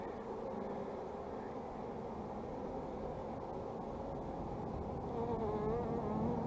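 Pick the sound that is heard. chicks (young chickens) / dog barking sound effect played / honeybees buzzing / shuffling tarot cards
honeybees buzzing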